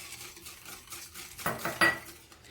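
A utensil clinks and scrapes against a bowl while eclair cream ingredients of sugar, starch and flour are mixed, a few light strokes building to sharper metallic knocks near the end, close and without speech.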